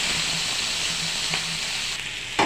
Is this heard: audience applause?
no